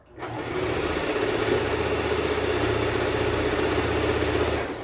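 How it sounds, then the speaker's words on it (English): Sewing machine stitching along the bottom of a fabric pillowcase, a steady close whirring run that lasts several seconds with no talk. "go ahead and start sewing the bottom of the pillow."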